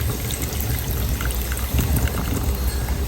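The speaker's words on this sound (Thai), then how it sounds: "ต่อมาก็จะตองน้ำปลาร้าใส่" Fresh fermented fish sauce (pla ra) is poured into a pot in a kitchen, a steady, close liquid splashing and trickling that carries on unbroken.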